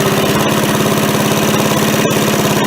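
An MTD push mower's small engine running close and loud, a steady rapid pulsing chug that stays even throughout, with a couple of brief clicks.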